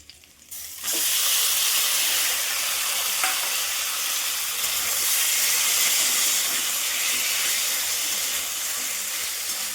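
Pumpkin drops into hot oil with frying onion, garlic and a fish head, setting off a loud, steady sizzle and hiss that carries on close and unbroken after a brief quiet start.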